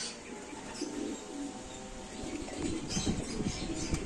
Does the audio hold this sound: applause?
no